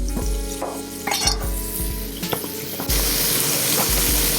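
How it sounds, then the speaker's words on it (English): Cubed beef steaks sear and sizzle in a hot pan, a steady frying hiss broken by repeated metallic scrapes and clacks of a utensil stirring and flipping, close up, with the sizzle surging louder near the end. "As our steaks cook over here, you get that nice aroma of blackening and seared beef"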